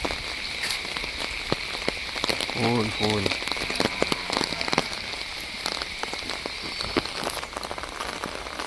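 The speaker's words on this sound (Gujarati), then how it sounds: "જો ફૂલ વરસાદ એટલે ફૂલ." Heavy monsoon rain in rural Gujarat pours down steadily close by as a dense hiss, with sharp drips and splatters, while a voice speaks briefly near the start.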